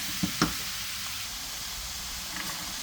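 Crushed garlic hits a hot stir-fry pan with chicken, shrimp and vegetables, giving a steady low sizzle and hiss with a couple of brief sharper crackles near the start.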